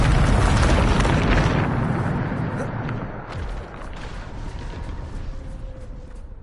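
A Bombarda spell cast in a PS5 game sets off a loud, close blast that fills the start, then slowly fades into a long rumbling decay with faint lingering crackle.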